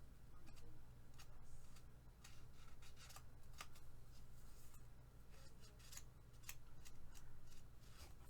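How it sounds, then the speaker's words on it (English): Scissors snip quietly, again and again in an uneven rhythm, trimming the cover edges of a board book during a craft project, close and faint over a low steady hum. "Cut edges."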